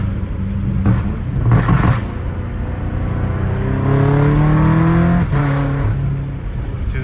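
BMW M5 Competition accelerating hard, its engine note climbing through several rising sweeps with brief gear-change dips, loud and close throughout with no voices.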